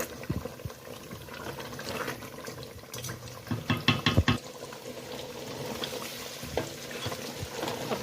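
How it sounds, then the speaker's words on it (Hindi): A spoon stirs mutton kachnar curry (goat meat with mountain ebony buds) in a pot, soft scrapes and wet clinks over a low simmering bubble, with a few louder knocks midway and no talk. "ये देखें चम्मच मैंने बिल्कुल नहीं चलाया था, अब चला रही हूँ ताकि ये अच्छे से मिक्स हो जाए"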